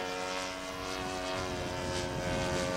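A radio-controlled Piper Cub model airplane drones on its landing approach, the small engine giving a steady, moderately loud buzz that holds an even pitch throughout.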